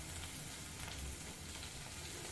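Onion and chopped tomato sauté in a pan with a faint, steady sizzle and no talking.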